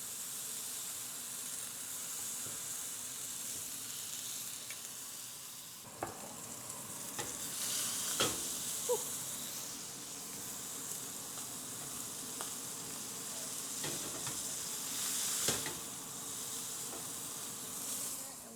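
Beef sears in a hot pan for a beef Wellington, giving a steady close sizzle and hiss throughout, with occasional light clicks and scrapes.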